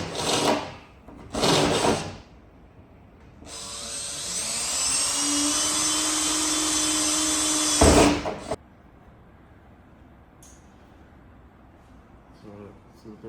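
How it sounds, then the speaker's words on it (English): A power tool cuts vent holes into a car hood on a turbocharged 86, a high buzzing grind running steadily for about five seconds between short bursts of talking before and after. "we're going to be cutting the hood so we can install some vents"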